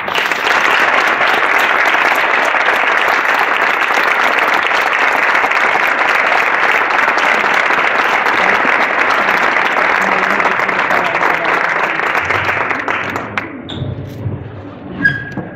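An audience applauds to welcome a flamenco cantaor on stage: strong, sustained clapping fills the hall for about thirteen seconds, then quickly dies away, leaving a few faint sounds.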